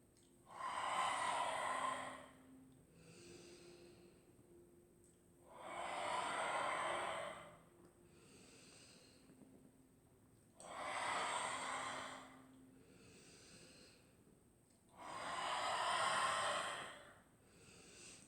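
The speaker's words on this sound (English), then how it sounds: "we're going to come up and then we're going to do the breath of fire" Four long, forceful bursts of rapid nasal breathing in a breath-of-fire exercise, each lasting about two seconds and separated by quieter pauses, close and fairly soft overall.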